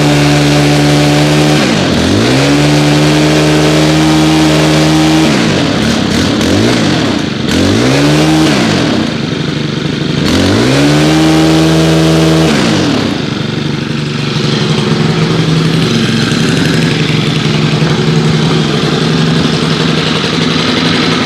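A Stihl FS90R string trimmer runs loud and close, with a steady engine drone broken by three sharp throttle blips that rise and fall, then settling back to a rough idle.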